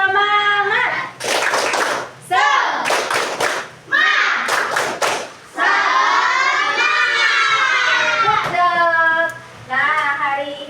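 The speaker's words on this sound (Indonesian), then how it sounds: "Oke, kita tepuk semangat dulu." A classroom of children performs a rhythmic spirit clap, bursts of sharp claps in patterned groups alternating with loud chanting and singing voices, close and energetic.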